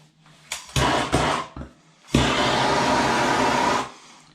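A butane torch fires up near a copper water pipe valve, with a few short hissing bursts followed by a steady, loud roaring flame that holds for over a second before cutting off.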